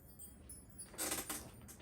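Oracle cards being shuffled by hand give a soft, brief papery riffle that swells for about half a second midway, faint and close against a quiet room with no talking.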